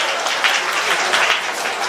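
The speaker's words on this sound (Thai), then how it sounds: "เสียงปรบมือต้อนรับครับท่านพลเอกนิรุตเกศิริ" An audience applauds in welcome of a guest of honor at the opening ceremony of a higher-education arts and culture festival at Ubon Ratchathani Rajabhat University. The clapping is steady and dense throughout, a broad wash of many hands.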